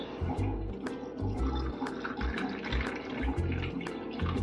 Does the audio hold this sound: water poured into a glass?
yes